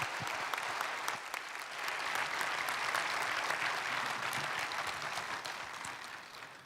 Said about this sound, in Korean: 우리 큰 박수로 잘 오셨습니다.